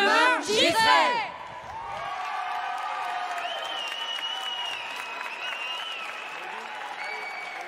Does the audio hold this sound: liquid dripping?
no